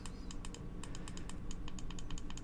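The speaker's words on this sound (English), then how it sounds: "Wattage up, wattage down. It's nice and clicky." Crisp, rapid clicks from the wattage up and down buttons on a KangerTech Subox Mini vape mod, pressed repeatedly in quick bursts close up, with no talking.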